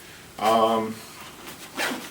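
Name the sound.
zipper opening a backpack compartment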